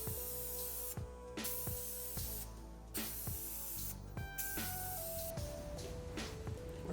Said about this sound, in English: we're gonna hit it with some spray primer. I have the Rust-Oleum engine enamel primer